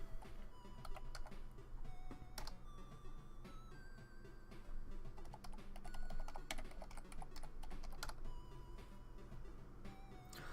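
Someone types fast on a computer keyboard with dense, continuous clicking and clacking, some keys struck harder than others, all fairly close.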